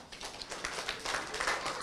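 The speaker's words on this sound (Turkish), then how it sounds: "Alkışlayın arkadaşımızı." A short burst of scattered clapping from children in a Turkish children's show, close and lively, lasting under two seconds.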